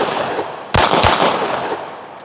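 Two sharp, loud handgun shots crack close by in quick succession during target shooting practice, each with a brief ringing decay over outdoor background noise.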